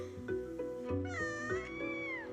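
A cat meows repeatedly in a series of clear, close, drawn-out cries, some rising into a wailing, caterwauling tone, with no one speaking.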